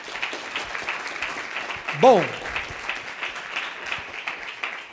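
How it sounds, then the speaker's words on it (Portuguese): Entrepreneurs in a seminar audience clap in a loose, moderate round of applause, while a presenter's voice speaks over it. "uma salva de palmas para vocês"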